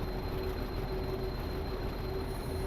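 A Class 50 diesel locomotive runs on the Riviera line in Train Simulator Classic, its steady low engine drone and rail rumble continuous and unbroken, with a faint high whine on top and no talking.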